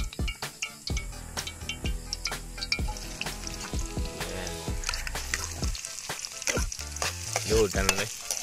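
Cooking oil sizzling and frying in a pan, a steady crackling hiss with sharp pops and spatters throughout, fairly close and moderately loud, with occasional stirring clatter; no one talks.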